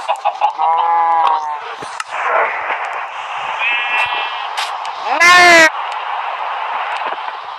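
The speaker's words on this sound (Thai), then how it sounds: "ไก่ ไก่มานี่" Minecraft chicken clucking and squawking, several short bursts with a sharp louder call near the end, over a steady background bed.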